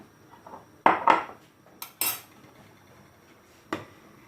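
Dried apricots tipped into a pot of milky aşure on the stove, with a few sharp clinks and knocks of a utensil against the pot and quiet clatter between, no voices.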